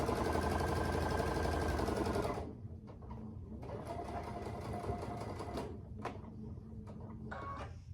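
A sewing machine runs fast and loud in one close burst while sewing a quarter-inch quilt block seam, then stops, leaving quieter fabric handling and small clicks.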